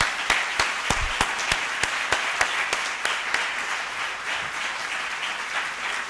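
An audience at a health innovation conference claps in sustained applause, crisp individual claps standing out over a dense, moderately loud wash of hands.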